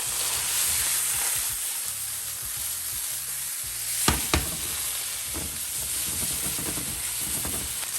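Corn kernels tossed into a hot pan of rendered fat for a corn carbonara, giving a steady, close sizzle with a couple of sharp clacks and intermittent stirring scrapes throughout.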